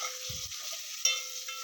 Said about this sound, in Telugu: ఆవాలు, జీలకర్ర, పచ్చి మినపప్పు, పచ్చిమిర్చి, ఎండుమిర్చి, కరివేపాకు, ఇంగువ వేసుకొని తాలింపు వేసుకున్నాను.